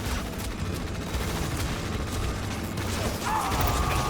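Artillery fire in Tom Clancy's EndWar, a dense rumbling barrage of blasts and mechanical clatter running continuously and loudly, with a rising whine near the end.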